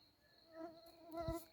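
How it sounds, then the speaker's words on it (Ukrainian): Mosquitoes whine faintly at night in a peony garden, a thin high-pitched buzz that rises and falls as insects drift near, with soft rustling beneath. "комарів повно"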